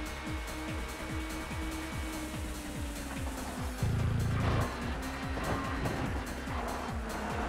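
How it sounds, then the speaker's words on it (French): A V6 touring car engine in the PS1 racing game TOCA Touring Car revs hard in a steady series of rising sweeps and gear changes, loud and continuous, with a brief louder burst midway. "Les sons des V6 sont fidèlement reproduits."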